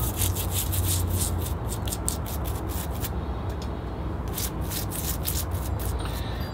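Moss being scrubbed off the surface roots at the base of a small-leaf linden bonsai, a steady close-up scratchy rubbing that continues without a break.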